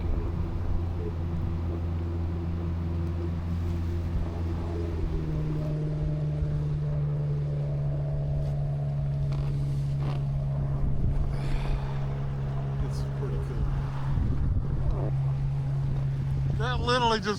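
A Solar 470 jet boat drives up a river toward a glacier, its engine a steady droning hum with shifting tones and constant wind rush throughout.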